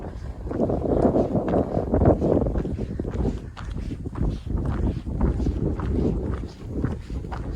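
Gusty wind buffets the microphone on a hike to Mount Tamalpais peak, loud, rumbling and uneven, with scuffing footsteps mixed in.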